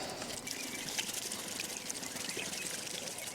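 Fuel splashes and trickles as it drains from the tank of a Lingenfelter C4 Corvette, a faint, steady patter of liquid hitting a surface close by.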